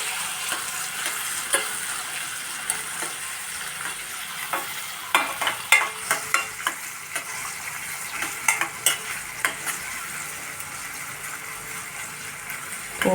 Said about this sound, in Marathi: आधी आपल्याला ढबू मिरची टाकायचं आहे, कारण ते परतायला पाहिजे आपल्याला.